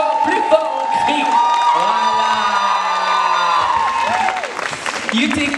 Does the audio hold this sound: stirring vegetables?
no